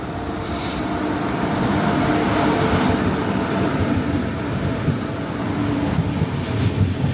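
A train at a station on the Varkala to Trivandrum line in India gives off a loud, steady rumble of rolling wheels, with high metallic squeals near the start and again later, heard up close with no talking.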